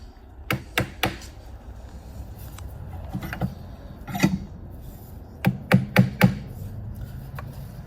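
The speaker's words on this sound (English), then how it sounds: "get a flat chisel right on the line. And you want to start every cut with a chisel cut." A flat chisel is struck with a mallet to cut a hand-cut wood joint for live edge furniture, giving crisp wooden knocks in quick groups of three or four, with quieter taps in between.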